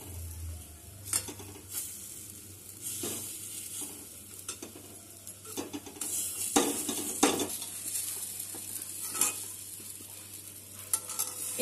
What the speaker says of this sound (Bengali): আমি এটাকে নেড়ে দিয়ে কড়াইয়ের মধ্যে চাপড় তৈরি করে নেব।